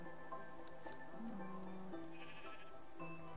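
Minecraft sheep bleating in the game, several short wavering bleats over a busy game background with scattered clicks, moderately loud and close.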